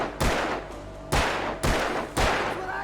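Four sharp gunshots from the video game Alan Wake crack out at uneven intervals, each a loud broadband blast with a lingering reverberant tail, fired alone with no talking.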